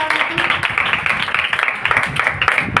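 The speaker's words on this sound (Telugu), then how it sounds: "క్లాప్స్ కొట్టండి వాళ్ళందరికీ" Children in a classroom clap together in a quick, uneven patter, a steady rhythm of close hand claps lasting a few seconds with faint voices underneath.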